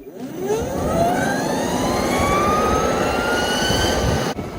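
An electric skateboard motor at full throttle in Turbo mode spools up in a rising, jet-like whine that climbs steadily in pitch and stays loud and close for several seconds.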